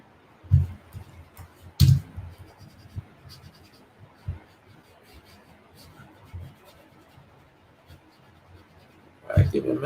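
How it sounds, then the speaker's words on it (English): An eraser wipes writing off a board in intermittent scratchy rubbing strokes, with a few louder knocks and thumps against the surface spread across several seconds. "let me try to erase everything over here."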